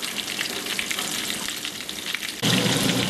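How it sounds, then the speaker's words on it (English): Pork cubes, mushrooms and onions sizzle steadily in a frying pan, a dense close crackle with no talk, turning noticeably louder and brighter for the final half second. "the mushrooms and onions are almost finished sauteing"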